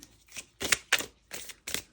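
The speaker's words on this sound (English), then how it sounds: "I wanted to give them another little shuffle as well" Tarot cards being shuffled by hand, five or six quick riffling bursts at an uneven rhythm, close and fairly soft, with no voice.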